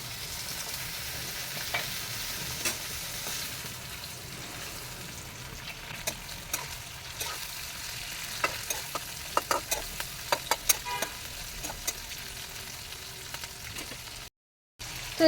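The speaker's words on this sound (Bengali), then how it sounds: "আর এখন আমি এই যে আগের থেকে কেটে রাখা টমেটো ওইগুলো ছেড়ে দিচ্ছি তার মাঝে" Chopped tomatoes tossed into a pan of chicken fry with a steady low sizzle, while scattered clicks and scrapes of stirring come through clearly, close up and with no voices.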